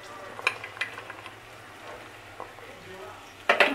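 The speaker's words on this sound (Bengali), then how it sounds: "তো এগুলো হালকাভাবে ভেজে নেব।" Cauliflower and peas fry lightly in a pan for a vegetable mung dal, giving a soft, intermittent sizzle with occasional stirring scrapes, fairly quiet, ending in a brief louder clatter.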